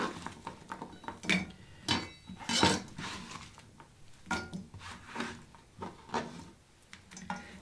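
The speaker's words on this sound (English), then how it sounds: "It's time to put them in a skillet and start frying them up." Chopped vegetables tip from a board into a skillet and are stirred for frying, giving a run of clattering, scraping knocks and rustles at an uneven rhythm, close and moderately loud, with no talking.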